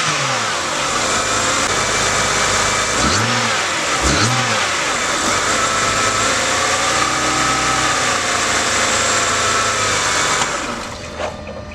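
A non-turbo E90 BMW engine with a homemade cold air intake idles steadily, with two quick revs early on, then holds a loud continuous drone before cutting off.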